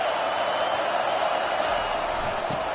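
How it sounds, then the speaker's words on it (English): A stadium crowd in the College 25 football video game keeps up a steady, dense roar throughout, loud and continuous with no breaks. "This crowd bringing the energy and noise early."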